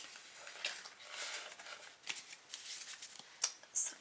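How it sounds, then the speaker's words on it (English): Oracle cards shuffled by hand, a soft, steady papery riffling and patter heard up close, with a few sharper flicks near the end and no talking. "So I'm going to shuffle these cards"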